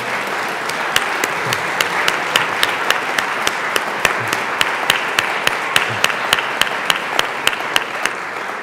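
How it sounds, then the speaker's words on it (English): Applause for Adams State University visitors in a Colorado legislative chamber, a steady wash of many hands clapping with a few louder, sharper claps standing out near the front. "Let's give them a round of applause."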